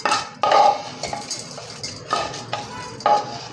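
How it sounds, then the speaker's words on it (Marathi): Cooled amla chutney mixture scraped and spooned from a pan into a mixer jar, with several distinct metallic clinks and scrapes of a spoon against the vessels, close and fairly loud, with short pauses between strokes and no talking. "आता हे मी मिक्सरच्या भांड्यात काढून घेते सर्व"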